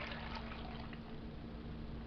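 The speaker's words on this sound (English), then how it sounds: "I've decided just to use ice water, or just cold water. We're going to pour that in there." Cold water pours steadily into a Vitamix 7500 blender jar, a continuous close splashing rush with a faint constant hum underneath.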